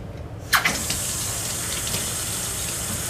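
Tap water gushes steadily from a kitchen faucet, measured out for strawberry sheet cake batter, starting with a splashy onset and then running continuously and close.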